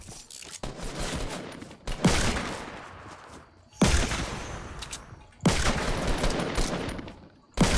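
Rapid automatic gunfire from the video game Fortnite sounds in several loud, dense bursts, each several seconds long and separated by short gaps.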